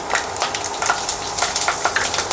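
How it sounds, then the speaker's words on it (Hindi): Red chillies, cumin, mustard seeds and garlic sizzle and crackle steadily in hot oil, a continuous close frying hiss with scattered pops and spatters, no voices. "ऑयल गरम हो गया, इसमें डालूंगी 3 लाल मिर्ची, ज़ीरा, राई,"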